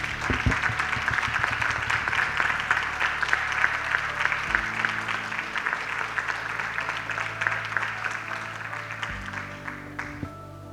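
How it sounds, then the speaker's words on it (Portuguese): An audience at a theology graduation ceremony claps steadily for the graduates, a dense, sustained round of applause that fades out near the end over a low background hum. "que todos aqui pudessem dar uma linda salva de palmas aos nossos formandos."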